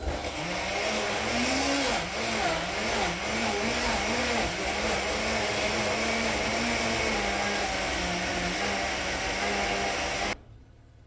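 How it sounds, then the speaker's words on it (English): A kitchen blender grinding butcher meat for jollof rice runs steadily with a wavering motor whine, fairly close and continuous, then cuts off abruptly. "Blender."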